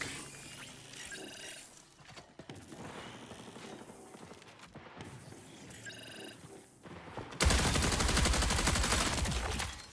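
Weapon fire in the video game Marathon: rapid clattering bursts of shots with mechanical clicks, close and fairly loud, ending in a dense, sustained blast of firing.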